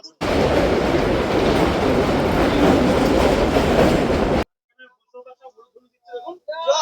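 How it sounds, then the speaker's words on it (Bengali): A Krishnanagar local train moves past on the railway with a loud, close clattering roar for about four seconds. The noise then cuts off abruptly, leaving near quiet with a few faint voices. "এই ট্রেনটা আমাদের কৃষ্ণনগর লোকালে হচ্ছে, আগে চলে যাচ্ছে"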